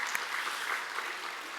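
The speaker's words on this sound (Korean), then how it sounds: "박수 하실까요?" Brief, fairly faint applause from a congregation during a Sunday church service, an even wash of clapping that continues through the short moment.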